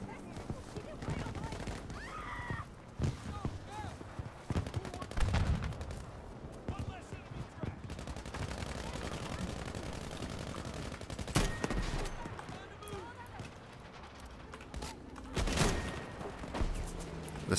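Thompson 1928 submachine gun without a compensator firing in Battlefield V, heard as bursts of automatic gunfire mixed with other battlefield shots and noise, with voices talking over parts of it.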